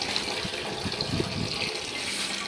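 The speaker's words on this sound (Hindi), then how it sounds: "इसमें पानी भर रहे हैं, लग चुका है, ये देखिए" Water running and filling a newly installed bathroom toilet cistern with a siphon and float mechanism, a steady faint rushing flow with light gurgling.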